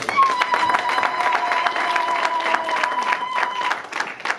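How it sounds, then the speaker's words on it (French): A church congregation applauds and cheers a group of visiting pastors as they stand, steady clapping filling the room throughout, with a sustained tone running beneath the applause. "Ils se mettent debout, nous les saluons avec des acclamations."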